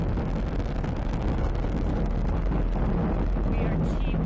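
Falcon 9 first stage with nine Merlin engines producing 1.7 million pounds of thrust during a crewed launch from Kennedy Space Center: a continuous, loud, broadband rumbling roar with steady intensity throughout, and a faint voice is audible beneath it.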